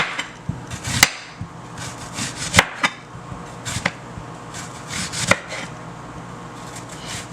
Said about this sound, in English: So I'm gonna start by cutting up my onion.